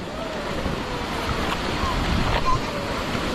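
Sea waves and rushing water around a small boat out on the open sea, a steady broadband wash with wind buffeting the microphone, continuous and fairly loud with no talk.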